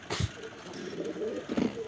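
A pair of nesting pigeons, a female and a male, coo in low, rolling bursts at close range, with a short sharper sound at the start.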